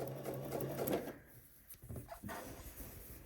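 Sewing machine basting zipper tape in place on a skirt, a steady close whir for about a second, then short bursts of stitching with pauses between.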